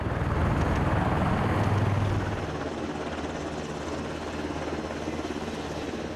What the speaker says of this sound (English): the President may ride in a versatile range of aircraft piloted by the Marine Corps, designated as Marine One.